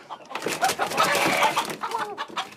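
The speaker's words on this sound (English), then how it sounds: "Moving the roosters isn't easy." Several roosters and hens cluck and squawk close by in a busy, overlapping flurry, with faint rustling and a bit of human voice mixed in.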